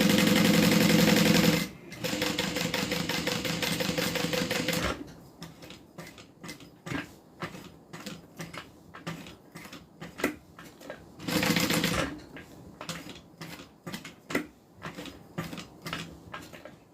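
Sewing machine stitching around the outside of a crossbody bag: two loud continuous runs of motor whir, then slower bursts of ticking stitches and pauses, with another brief fast run midway.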